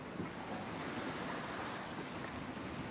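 Ocean swells and wind rush past a sailing vessel bashing into the waves, a steady, faint broadband wash of water and wind noise with no voices.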